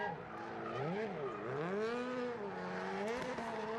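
Tires squeal and skid as Travis Pastrana drifts the all-wheel-drive Family Huckster at Velocity Invitational, burning rubber, with a loud wavering screech that rises and falls as the car slides and spins.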